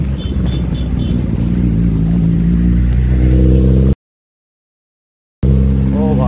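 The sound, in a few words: Kawasaki Ninja ZX-10R superbike riding past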